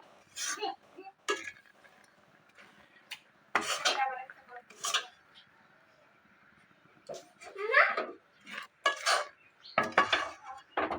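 Utensil scraping and clinking against a pan while stirring a sesame seed mixture for til naru, in irregular bursts between quieter gaps, with faint background voices.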